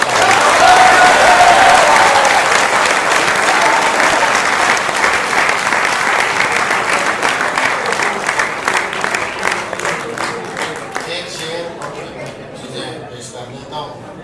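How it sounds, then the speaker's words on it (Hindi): Audience applause at a poetry mushaira at the University of Lahore: loud, dense clapping from a large crowd that holds steady, then gradually thins and fades toward the end. "अपने लिए तालियां"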